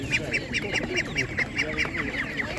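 Ducks at an outdoor poultry market quack in a steady run of repeated calls, close and fairly loud, with market chatter and background noise underneath.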